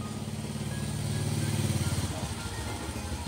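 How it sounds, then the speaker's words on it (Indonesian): A motorcycle rumbles past outdoors, its low engine drone swelling then fading over a few seconds, faint and somewhat distant, heard during an indoor tutorial recording. "Suara agak terganggu, ada motor lewat"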